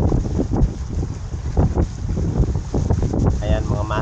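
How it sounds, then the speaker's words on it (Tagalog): Strong wind buffets the microphone at a fishing spot by the water in Baseco, a steady roaring rush with gusty surges throughout and no talk. "lakas ang hangin"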